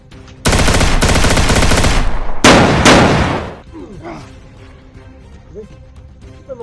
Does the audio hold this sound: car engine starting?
no